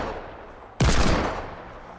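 A single loud gunshot from a player's weapon in the video game Fortnite, an abrupt close blast that decays over about a second against a low background hum.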